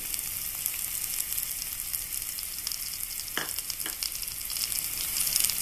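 Curry leaves and chili powder frying in hot oil for a masala egg fry, a steady close sizzle and crackle throughout with a few sharper pops, no talking.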